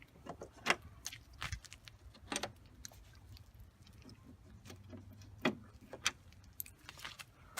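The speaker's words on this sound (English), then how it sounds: "Okay, so then you pick up the bolts." Loose metal bolts from a BMW E60/E61 front grille are picked up and handled, giving a few close, sharp metallic clinks and jingles with quieter rustling between them.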